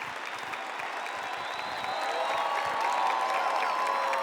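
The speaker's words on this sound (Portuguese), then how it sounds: "Você quer aplaudir? Aplaude então. Aplaude." A church congregation applauds during a Pentecost homily, a dense steady wash of clapping that swells slightly toward the end with faint voices mixed in.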